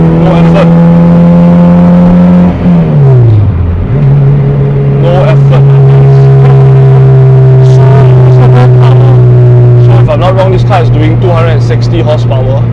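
A K24-swapped Honda Civic EK sedan accelerating in 5th gear on a test drive: a loud, close engine drone that dips in pitch briefly, then holds a steady tone as the car pulls.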